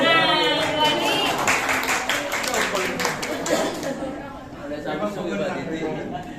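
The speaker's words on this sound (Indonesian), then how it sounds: "Tepuk tangan." A church congregation claps and chatters after doubles badminton winners are announced at a church event, a burst of applause under lively talk and laughter that fades toward the end.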